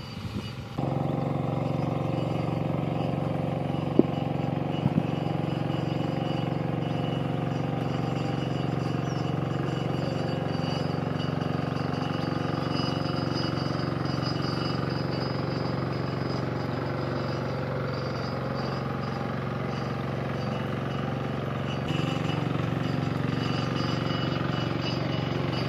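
A farm tractor engine drones steadily in an open field, a constant low, faint hum that carries on unbroken for the whole stretch with no voices.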